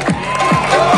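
A race awards crowd cheers for the 5K men's category winners at a corporate run, with a loud, continuous wash of voices and whoops through the brief moment.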